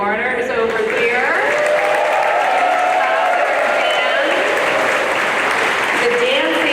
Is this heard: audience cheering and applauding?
yes